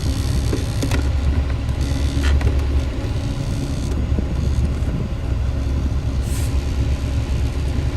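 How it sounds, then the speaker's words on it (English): A small fan blowing on a phone to keep it cool during a live stream, giving a steady broadband whoosh that runs evenly and fairly loud throughout with no talking. "That's that little fan I've got blowing on the phone to try to keep it from overheating while it's live streaming."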